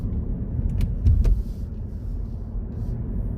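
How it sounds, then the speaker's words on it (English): Car engine pulling under heavy load while driving on a test course, a steady low rumbling drone throughout with a brief louder surge near the middle. "That's where the engine is using quite a lot of power."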